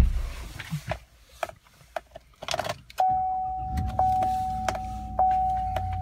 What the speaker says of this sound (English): let's just get inside and start this truck up